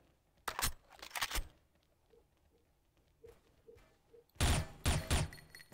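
Gunfire in the XSHOT shooting game: two rapid bursts of shots, one early and one near the end, with faint quiet blips in between. Close and loud, with no talk.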